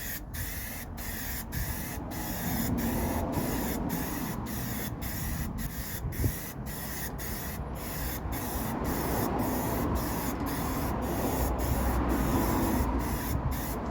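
A steady aerosol hiss sprays matte lacquer from a can onto a panel, close and continuous, with faint regular ticks running through it.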